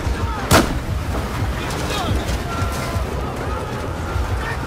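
In Battlefield 4, heavy gunfire and explosions boom through a dense, loud battle din, with one sharp blast near the start and continuous rumbling after it.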